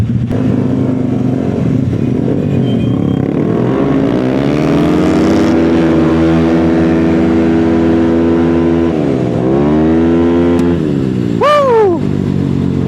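Motorcycles pass close by, their loud engines droning and rising and falling in pitch as they approach and move away, with a sharp high whine sweeping past near the end.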